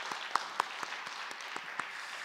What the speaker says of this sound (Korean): 우리 한 주간도 이른 새벽에 나와 귀한 찬양 올려드린 우리 임마누엘 찬양대에게 감사의 박수를 함께 드리도록 하겠습니다